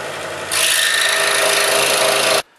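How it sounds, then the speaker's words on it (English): A scroll saw cuts through 3/4 inch MDF, a loud, steady buzzing rasp that starts abruptly after a quieter hum, holds for about two seconds, then stops. "Okay, I cut that 3/4 inch MDF for 5 minutes"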